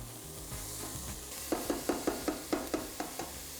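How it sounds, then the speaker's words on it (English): Diced sweet onion cooks in olive oil in a pan, a faint steady sizzle under a run of light, evenly spaced scraping taps from stirring. "I'm gonna add some olive oil, 1 diced sweet medium onion."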